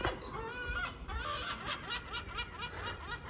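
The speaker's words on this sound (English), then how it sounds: "I don't know if you heard that seagull laughing at me there." A gull gives a rapid series of laughing, cackling calls, fairly close and loud, repeating throughout with a faint background behind it.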